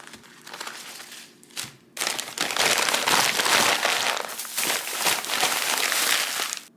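Raw beef short ribs with bones are set down and shifted on paper towel, giving a sustained, close crinkling and rustling of paper with a few soft handling thumps, heard alone.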